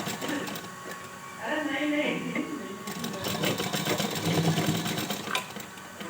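A sewing machine stitches a baby girl's dress top with the fabric turned inside out, its motor whirring in steady bursts while someone talks over it.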